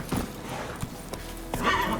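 Roach, a horse in The Witcher 3, moves along with rhythmic hoof clip-clops and a whinny, close and fairly clear, with no talk over it.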